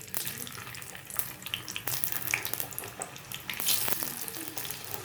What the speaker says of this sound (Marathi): बटाटे पण व्यवस्थित फ्राय करून घ्यायचे.